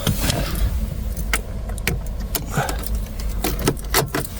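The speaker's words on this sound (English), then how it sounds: "So let me just put the ignition on." Keys jangle and turn in the ignition of an Audi A3, metallic rattles and clicks standing out close by against a steady rumble of a car engine or blower in the background.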